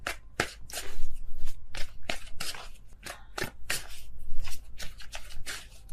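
Tarot cards being shuffled during a Leo reading, a steady run of crisp riffling and flicking bursts, close and fairly loud, with no voices.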